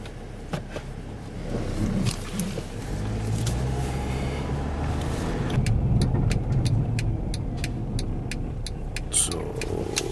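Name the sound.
car driving on road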